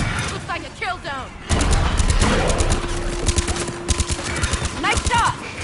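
Gunshots from the video game Mass Effect 3 ring out in a loud, sustained rapid burst after a short lull, then come back as scattered shots. Voices speak in the quieter stretches.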